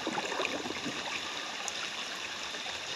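A small creek flows on a rainy day in Antlers, Oklahoma, a steady soft rushing and trickling of water heard close by with no voices.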